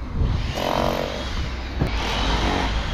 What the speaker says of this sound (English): with that needle scaler, you can get in all the really fine gaps that you couldn't get an SDF chisel in